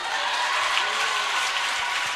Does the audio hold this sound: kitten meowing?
no